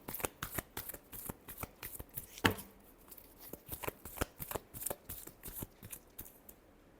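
Tarot cards are shuffled by hand in a quick, crisp, rhythmic riffle of repeated light taps and flicks, close and quiet, with one sharper snap partway through.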